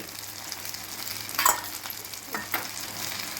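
A tomato and egg omelette frying in a pan, a steady soft sizzle up close with a couple of louder scraping stirs as it is turned, no voices.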